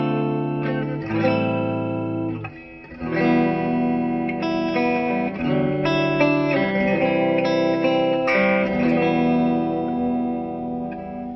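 Electric guitar played through a 1984 Roland JC-50 amplifier with reverb, sustained chords and single notes ringing out with a lush, spacious tail, brief dips between phrases, loud and close.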